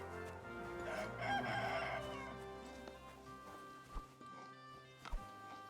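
A rooster crows loudly up close in Kingdom Come Deliverance 2, followed by a few scattered clucks and brief knocks, against a quiet game ambience.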